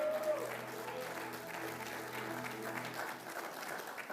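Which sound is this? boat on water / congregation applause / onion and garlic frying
congregation applause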